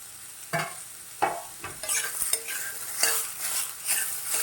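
Tomato, ginger, green chili and garlic stir-fried in a pan for a red gravy, with a spoon scraping and tossing in irregular strokes over a steady low sizzle, close by and moderately loud, no voices.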